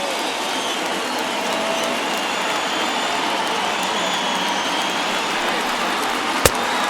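Stadium crowd from MLB The Show 21 during a Reds–Cubs game, a steady broad roar of more than 39,000 fans on their feet, continuous and even throughout with one brief sharp crack near the end.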